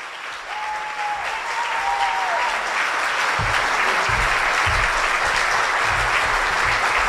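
Sustained audience applause fills a hall at a chamber of commerce awards gala in Houston, building from a soft start into a steady, dense clapping that holds for several seconds, with a brief musical tone near the start.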